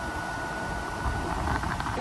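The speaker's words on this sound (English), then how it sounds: "that's the sound of the compressor and the fan going" An air conditioning compressor and blower fan run steadily inside a classic Peterbilt truck cab, giving a constant broadband whoosh with a faint tonal whine, moderately close and unbroken.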